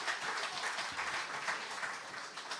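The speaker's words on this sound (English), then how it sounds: "Give a round of applause for that effort" Audience applause fills a hall at a Prime Minister's forum, a steady dense wash of clapping lasting the whole stretch, with no voices over it.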